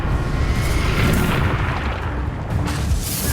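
Spell blasts erupt during combat in the Hogwarts Legacy video game, a dense run of booming, crackling impacts that swell and overlap, loud and close with brief surges rather than isolated hits.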